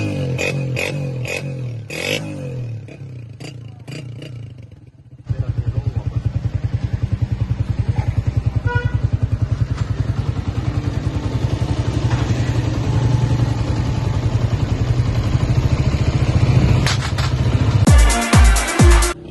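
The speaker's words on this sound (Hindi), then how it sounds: "इंजन साउंड भी बेहतरीन हो गई" Honda CG125 motorcycle engine after tappet adjustment: a few clattery starting attempts, then a steady, close idle with a fast even pulsing beat that runs without talk.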